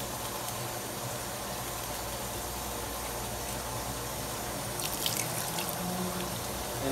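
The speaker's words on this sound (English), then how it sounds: "So it's just water that's going up into the pot" Water pouring steadily into a cooking pot for a roux while oxtails are being cooked, a continuous close rushing stream with a few small splashes near the end and no talking.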